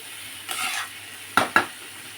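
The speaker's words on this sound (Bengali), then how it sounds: "আধখানা পেঁয়াজ দিয়েছি আর রসুন একটু নাড়াচাড়া করে নিচ্ছি" Half an onion and some garlic are stirred in a metal pan, a brief soft scrape followed by two sharp spoon-on-pan clinks close together, near and distinct against a quiet background.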